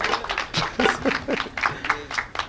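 An audience breaks into scattered clapping, sharp irregular claps repeating close by for a couple of seconds, with a few voices mixed in underneath.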